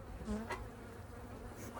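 Agitated honey bees buzz around an opened hive box holding capped honey, a loud close swarm drone with sharper individual whines passing near, and no speech.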